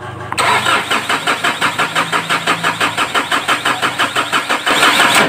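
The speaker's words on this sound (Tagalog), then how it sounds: "Aabot daw siya ng 3 hanggang 4 sa kaka-start bago mag-andar ang makina." A Ford Everest diesel with a hard-starting problem traced to a weak fuel pump cranks loudly with a rapid, even rhythmic chug for about five seconds before catching into a running engine at the end.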